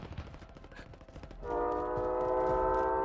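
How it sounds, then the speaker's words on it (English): In the Call of Duty Black Ops Cold War video game, a train is heard first as distant rumbling and clatter, then a loud, sustained multi-tone horn blast joins it and holds to the end. "Oh, did I just hear the train up here?"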